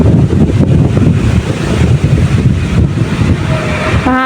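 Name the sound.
wind blowing outdoors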